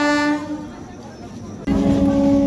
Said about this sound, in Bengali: ট্রেনও চলে এসছে, এখন ট্রেনে উঠবো।